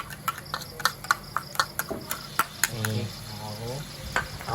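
Garlic and chili paste stir-fried in a pan at a rustic seaside cooking spot, with quick scraping stirs and clinks of a utensil against metal over a soft sizzle, faint and nearby, with a voice briefly heard.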